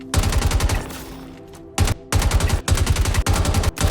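A ship-mounted railgun fires in Star Citizen from an Idris ship, loud rapid bursts of repeated shots with a brief lull partway through, then several more salvos.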